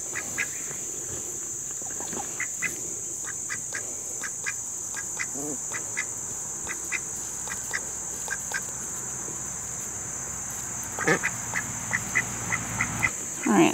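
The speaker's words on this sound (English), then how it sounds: "it looks like the ducks have joined us for the last little bit of the garden" Several ducks quack in a homestead vegetable garden, short nasal calls scattered throughout and bunching into a livelier burst near the end, mid-distance over a steady high insect-like hiss, with a voice speaking briefly.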